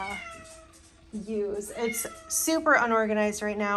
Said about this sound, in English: I apologize about the cat screaming.